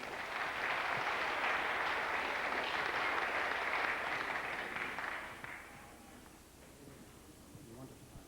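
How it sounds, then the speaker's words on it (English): An audience at a memorial concert gives a sustained round of applause, loud and dense for about five seconds before fading to scattered claps and quiet room noise. "Give Tom a big round of applause now."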